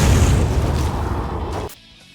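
Explosion in the third-person shooter game Lost Planet, a loud, rumbling blast with a heavy low-end roar that sustains for over a second and a half, then cuts off abruptly into near silence.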